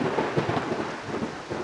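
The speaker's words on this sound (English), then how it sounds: "But you can hear the thunder." Thunder rumbles through a heavy rainstorm with steady downpour, low rolling booms blending into dense rain noise close by, no voices.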